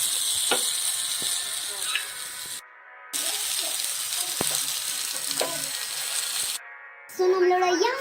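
Cabbage chicken rolls fry in a pan, a broad steady sizzle interrupted by two brief silent cuts, with a few sharp clicks and a clattering burst near the end, close and fairly loud.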